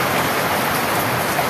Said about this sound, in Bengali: আর বৃষ্টি খুব জোর হচ্ছে